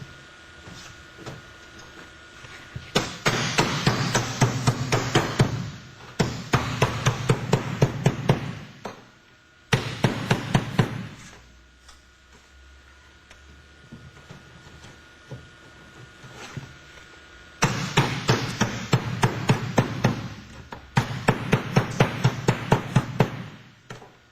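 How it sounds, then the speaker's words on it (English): A hammer taps metal roof wall flashing in quick rhythmic bursts, unrolling its folds, several runs of blows separated by quieter pauses, close and sharp. "Apply your hammer to usually get them started."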